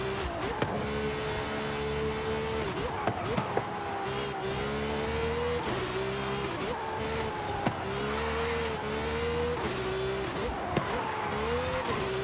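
A Porsche racing in Forza Horizon 5, its engine revving and shifting through repeated rising gear pulls, loud and steady throughout, with occasional clicks and bumps, no voices.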